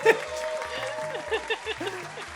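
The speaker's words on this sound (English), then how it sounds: "I did a round of applause to all of you not paying attention to what I've said" A round of applause sound effect rolls steadily for about two seconds over a backing music track with a stepped bass line.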